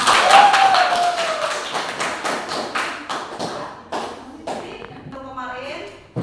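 Audience hand clapping in a classroom, loud at first then breaking into irregular, separate claps that fade and scatter, with some voices and shuffling mixed in.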